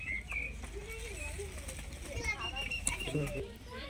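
Old-generation pigeons coo softly in a loft, several low throaty calls rising and falling among background chatter and talk, with faint clatter and occasional children's voices in the distance.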